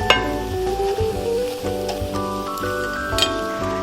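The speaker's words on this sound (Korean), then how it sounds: "이 육수를 넣고 같이 끓여주세요" A pot of stir-fried kimchi with anchovy-kelp broth poured in bubbles and simmers, a steady close sizzle and gurgle with soft clinks, no talking.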